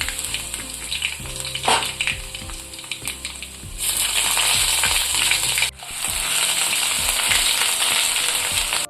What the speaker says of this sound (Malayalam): ഇതിലേക്ക് ഇഞ്ചി വെളുത്തുള്ളി പേസ്റ്റ് ഓരോ സ്പൂൺ ഇട്ട് കൊടുക്കാം